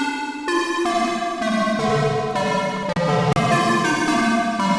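Serum synth patch drenched in hall reverb with distortion, a sustained bright harmonic tone shifting through stepped chord changes over nearly five seconds, with a washy reverberant tail and brief dropouts near the end.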